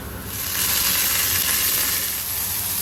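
Onions frying in hot oil after mustard seeds, the base for a dried anchovy curry, giving a steady, close, full sizzle and hiss that swells after a brief quieter start and holds evenly.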